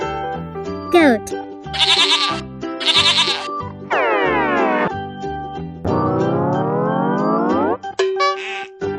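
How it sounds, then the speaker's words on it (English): A goat bleats in several loud, wavering cries, some short and some long and drawn out, set among cheerful children's music and sound effects. "Goat."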